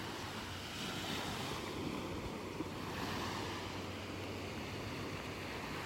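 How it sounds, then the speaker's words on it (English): Steady roar of Gulf of Mexico surf washing onto a beach in North Naples, Florida, continuous and fairly loud, with some wind rumble and no voices. "Here comes a big wave"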